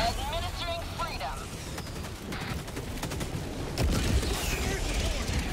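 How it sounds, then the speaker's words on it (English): An eagle airstrike in the shooter video game Helldivers 2 lands as a sustained barrage of heavy explosions and rumbling blasts, thickening toward the end, with players talking over the din. "Ending in an eagle. Airstrike."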